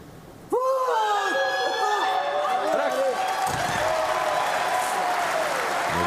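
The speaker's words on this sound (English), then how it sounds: "Another huge ovation from the crowd." Crowd at a Paralympic powerlifting final bursting into sustained applause and cheering after a lift, loud and continuous from a sudden start, with whistles and shouts scattered through it and commentary over it.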